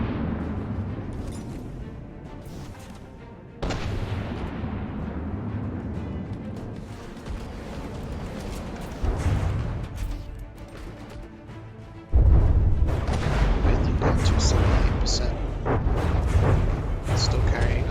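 Missile strikes and explosions from a strategy game battle boom in heavy, overlapping bursts that grow louder toward the end, with an excited commentator talking over them.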